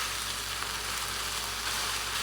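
Beef and onion sizzling in a frying pan during a stir-fry, a dense, even hiss of hot oil heard close and constant for a couple of seconds, with no speech.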